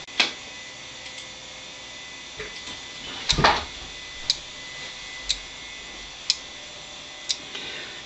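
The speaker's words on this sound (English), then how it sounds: "the channel 1 relay began cycling after the 2-second delay" A channel relay on a pulse sequence generator clicks in a steady cycle, one sharp tick about every second over a constant electronic hum, with a louder clunk partway through.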